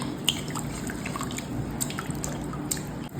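Water poured into a mango pulissery curry made with buttermilk gives a soft, steady trickle with a few light drips, quiet and close, with no one speaking.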